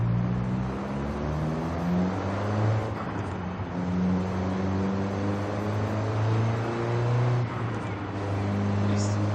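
A Mini John Cooper Works GP engine revs and climbs through gears in a driving game, pitch rising and dropping with each shift, steady and close.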